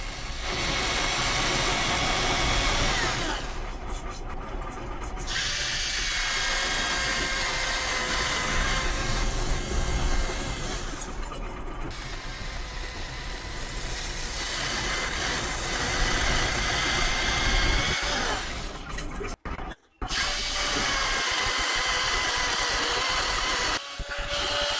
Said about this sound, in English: Mark has to go get fuel in the excavator